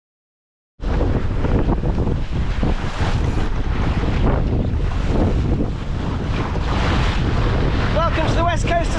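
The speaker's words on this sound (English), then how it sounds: "It's a pretty windy day today" Strong wind buffets a sailing boat on the west coast of Scotland in early April, a loud, continuous roaring rush against the microphone that starts abruptly after a brief silence, with faint tonal creaks near the end.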